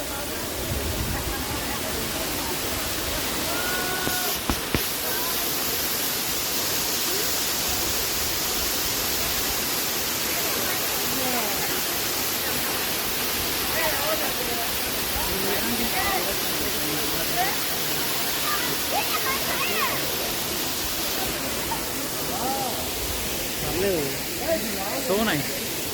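Kethenahalli waterfall near Bangalore, running with slightly muddy rainwater, gives a steady, loud broadband rush that continues throughout. People talk briefly over it now and then.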